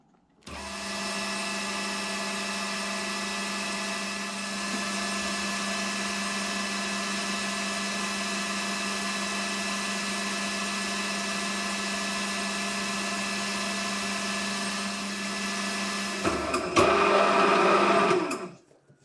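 A lathe turns an aluminium shaft with a steady mechanical whine and hum that starts after a brief quiet, holds evenly for most of the time, then shifts to a louder, rougher cutting sound near the end.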